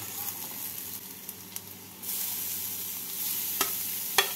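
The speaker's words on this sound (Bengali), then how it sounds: "গাজর দিয়ে নাড়াচাড়া করে নেব।" Grated carrot and chopped onion being stirred while they fry in hot oil, a steady sizzle that grows a little louder partway through, with a few sharp clinks and scrapes of the spoon near the end.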